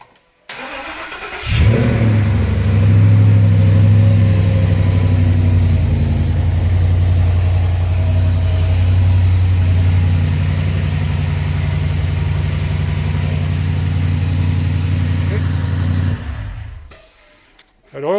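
A Coyote V8 swapped into a 2009 Ford Mustang cranks briefly, then catches and runs loud and steady with a deep idle that rises slightly before settling. It shuts off abruptly near the end, with faint voices talking over it.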